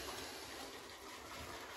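Water trickling onto a synthetic shaving brush, a soft, faint, continuous splash heard briefly with no talk.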